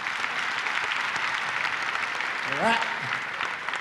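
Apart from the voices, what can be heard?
audience applause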